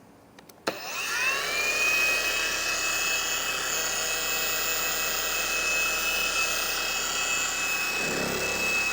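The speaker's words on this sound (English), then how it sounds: "I'm just guiding the polisher back and forth, up and down." A polisher runs at its lowest speed on faded, oxidized plastic, a steady close whirring drone with a faint high whine that starts abruptly after a click and holds evenly throughout.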